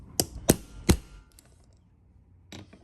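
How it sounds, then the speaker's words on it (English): Three light metal hammer taps, quick and evenly spaced, on a Pro Lock LT340 lock rekey tool, followed after a pause by a fainter fourth tap, close up in a quiet room. "A light tap of the hammer."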